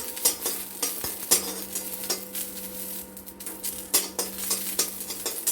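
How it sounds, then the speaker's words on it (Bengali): Green chilies fry in oil in a wok, giving a steady close sizzle broken by a few sharp clinks of a spatula stirring against the pan. "কড়াইতে আমাদের লঙ্কাটা একটু উলিয়ে নিই"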